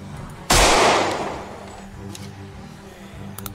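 A single loud gunshot rings out in the zombie survival game Project Zomboid, its blast tailing off into a long decay over low, steady game ambience, followed by faint scattered clicks.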